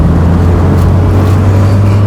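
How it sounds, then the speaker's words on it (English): A first-generation Mazda MX-5 NA Miata roadster with a 114-horsepower engine driven at full throttle on an Alpine road, its engine droning steady and loud up close inside the cabin with no talk. "Let's floor it then, shall we?"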